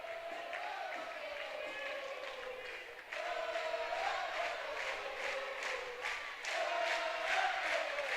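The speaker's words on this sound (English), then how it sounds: "Now the student section, the Rowdy Reptiles, cheering on the Monsters here for set point" Student section crowd cheering at a college volleyball match before set point, a steady roar of voices with whoops and yells that swells louder partway through, mixed with an announcer-like voice talking over the noise.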